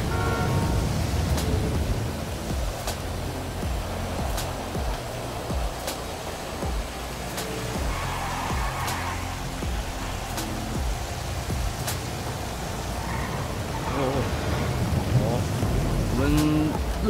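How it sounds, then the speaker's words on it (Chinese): Rain falling during a typhoon in the game GTA5, a steady broadband hiss with faint, evenly spaced ticks and low rumble beneath it, continuous throughout. "开始下雨了"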